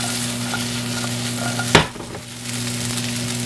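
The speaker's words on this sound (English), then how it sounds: "Get them tossed in that bacon grease." Mushrooms sizzle in bacon grease in a pan, a steady loud frying hiss with one sharp toss midway and a brief dip before the sizzle resumes under a constant background hum.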